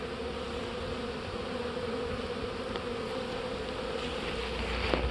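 Honeybees buzz continuously in a dense, steady drone, moderately close, with no voices present.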